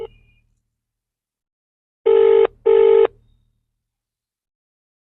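An unanswered telephone call gives two clear, evenly spaced ringback tones, each about half a second long, loud and alone on a silent line.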